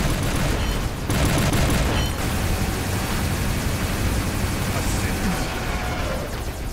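Robot weapons firing in the mech game War Robots, a continuous noisy barrage of gunfire and booms with a louder burst early on, dense and sustained throughout.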